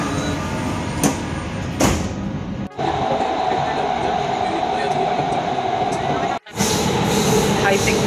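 Driverless automated metro train in Doha, Qatar, running on its line, a loud continuous rumbling roar with brief rattling bursts and two sharp dropouts, heard close from inside the car.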